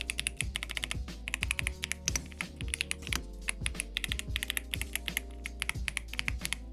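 Rapid, crisp keystrokes on a computer keyboard at a desk, a continuous close-up patter of clicks over a low steady hum, with no talking.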